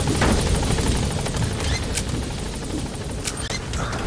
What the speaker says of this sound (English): Все огневые силы против вражеского вертолета.